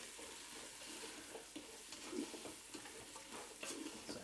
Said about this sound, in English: I'm gonna grab a spoon and just quickly give that a stir